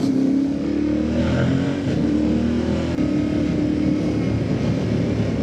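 An engine pulls hard in first gear on a country road past a village. Its pitch climbs steadily under constant loud rushing wind noise, close and continuous throughout.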